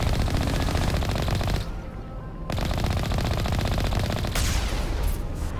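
Sustained rapid automatic gunfire from a Mass Effect firefight, loud and continuous with dense overlapping bursts, briefly dropping to a quieter stretch before the shooting resumes at full intensity.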